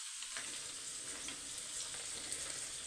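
Fish curry (kuzhambu) bubbling in a pot, before the fish goes in: a steady close hiss and crackle of sizzling liquid with small irregular pops, no voices.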